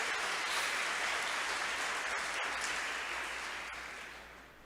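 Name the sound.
congregation applause in church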